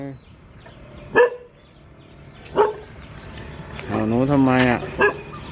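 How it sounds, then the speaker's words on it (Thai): A dog barks in a few sharp single yips spaced a second or so apart outdoors during a walk, while a voice speaks over and between the barks. "ทำไมถึงเห่าหนู"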